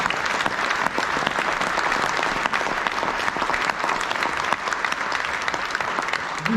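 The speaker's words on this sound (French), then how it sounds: "je crois que ça mérite là aussi encore vraiment un tonnerre d'applaudissements" A concert-hall audience at a choir event gives a thunderous round of applause, dense and steady for the full length, with no voices over it.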